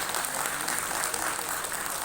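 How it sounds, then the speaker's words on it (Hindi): Steady, dense audience applause for leaders at a business event, a continuous wash of many hands clapping at even loudness throughout, with no voices standing out. "लीडर लोगों के लिए एक जोरदार ताली।"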